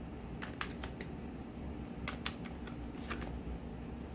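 Tarot cards are handled and drawn in a quiet room, with a few soft papery flicks and slides in short bursts over faint background hiss.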